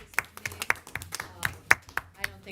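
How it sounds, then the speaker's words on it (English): A handful of people clap at a board of education meeting: scattered, uneven claps spread over a couple of seconds, with voices talking alongside. "we should applaud"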